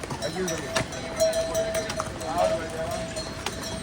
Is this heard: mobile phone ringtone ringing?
no